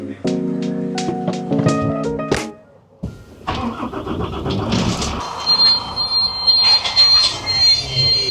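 A motorhome engine cranks and catches, then idles roughly, while a loud repeating electronic beeping and a warning chime sound in the cabin, with a fuse fault.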